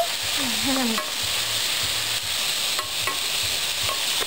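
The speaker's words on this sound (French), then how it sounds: "Alors vous mélangez le tout." Vegetables being stirred in a saucepan for a vegetarian spaghetti sauce, a soft steady scraping and shuffling that repeats in short strokes over a faint sizzle.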